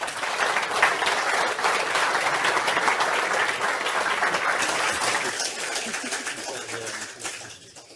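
An audience applauds after a lecture on extreme weather and water resources, a dense, sustained clapping that stays strong for several seconds before gradually thinning and fading out.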